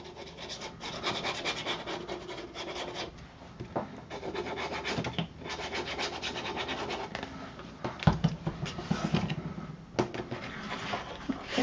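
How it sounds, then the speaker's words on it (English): Paper sides of a handmade photo folder are rubbed down with a burnishing tool in close, repeated scratchy strokes, steady and dry, pausing briefly between passes, with no talking. "burnish those sides down"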